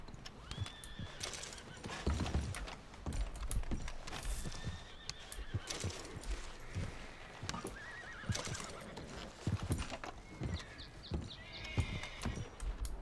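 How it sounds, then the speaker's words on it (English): A horse neighs and whinnies repeatedly over clopping hooves and scattered clatter, loud and close, with game-like ambient noise throughout, in Red Dead Redemption 2. "That horse is pissed off out there."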